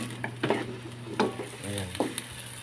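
Sweet potato being mixed with chicken adobo in a pan, heard as close stirring clatter and scraping with a soft background sizzle, in a few uneven bursts.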